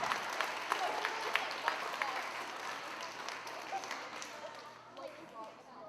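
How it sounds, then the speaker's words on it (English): A school crowd claps for a student at a time capsule reveal, lively scattered applause under voices that gradually thins and fades out near the end. "Give Joseph a big round of applause."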